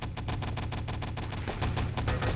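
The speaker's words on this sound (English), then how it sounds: "There's quite a few shots." Dense gunfire from the video game Enemy Territory, rapid overlapping shots firing steadily and loudly without a break through the whole short stretch.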